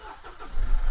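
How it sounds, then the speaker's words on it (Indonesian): A Mitsubishi Pajero Sport Dakar engine cranks and catches, rising from a faint whir into a loud, close, low rumble, heard alone. "Nah, pertama-tama kita nyalain mesin dulu."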